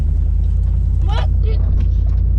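A vehicle in two-wheel drive rolls over rough ground with a loud, steady low engine rumble and shaky vibration close by, while people talk briefly over it.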